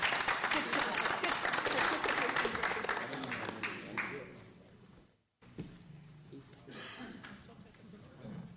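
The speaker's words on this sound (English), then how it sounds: "I feel like we should clap for them. They just took a picture." Room audience at a board workshop breaking into applause, brisk clapping that tapers off after a few seconds, a short silence, then scattered chuckles and murmuring voices.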